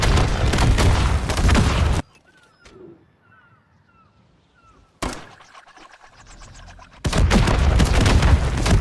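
Gunfire and explosions from the Modern Warfare III video game come in loud, dense bursts at the start and end, separated by a quieter gap with faint distant sounds.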